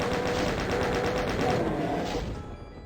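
Rapid gunfire in the Doom 64 game, a fast steady stream of shots lasting a couple of seconds before tailing off.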